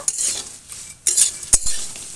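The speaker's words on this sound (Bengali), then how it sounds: "এবার একটু খুন্তি দিয়ে নেড়ে নেব।" A metal spatula scrapes and clinks against a pan while stirring fried potatoes dusted with cumin powder, a few sharp knocks and short scraping strokes over a faint sizzle.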